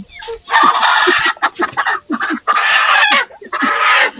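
Native chickens squawk and cluck loudly and frantically, with flapping and scuffling close by, as the birds are chased and caught.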